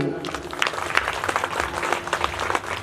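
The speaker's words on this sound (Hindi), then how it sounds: "इनके लिए जोरदार ताली" A crowd at a religious discourse applauds, with dense clapping that rises and falls over a few seconds, heard at a moderate distance with some voices mixed in.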